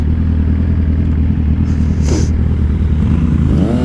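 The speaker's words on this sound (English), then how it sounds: "An expensive adventure bike." An expensive adventure motorcycle accelerates hard off the line at close range, a loud steady engine roar with a brief rising whine partway through and the revs climbing again near the end.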